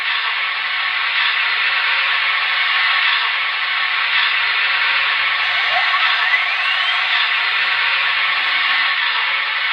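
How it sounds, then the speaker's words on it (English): Steam hissing steadily from a model Empire State Express steam locomotive, a constant close, loud broadband hiss with no talk. "Plenty of steam."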